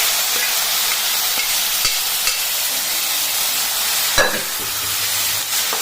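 Snake gourd kootu being stirred and mixed in a hot pan, a constant loud sizzling hiss with occasional scraping knocks of a spoon against the pan, close by with no talking.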